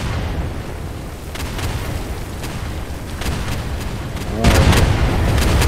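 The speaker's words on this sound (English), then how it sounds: "Abrams is shooting and moving" Abrams tank firing during a video game battle, a rumbling backdrop with scattered shots and a heavy boom near the end, loud and close.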